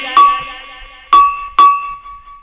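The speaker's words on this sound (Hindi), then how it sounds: "घड़ियाल ने घंटी बजाई" A bell or gong is struck three times, once and then twice in quicker succession, each strike a bright ding followed by a clear, sustained ringing tone that fades slowly.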